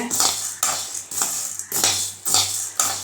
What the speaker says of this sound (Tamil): ஒரு நாலஞ்சு ஏலக்காய் ஒரு கைப்பிடி அளவு பாதாம் போட்டு அதையும் சேர்த்து நல்லா வறுத்துக்கோங்க